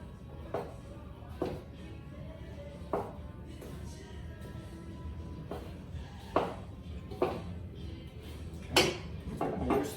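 Sausage stuffing being mixed in a bowl, with scattered knocks and clinks of a utensil against the dish at irregular intervals, fairly close and quiet with no talk.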